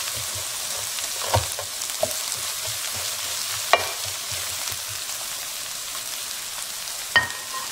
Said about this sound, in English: this is a 1 onion. I chopped it in small pieces, and I'm gonna stir fry it